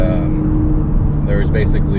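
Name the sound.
Ford Focus ST with Borla catback exhaust driving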